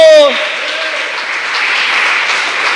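A church congregation breaks into loud, sustained applause for Jesus after a brief spoken phrase at the start, steady clapping filling the room.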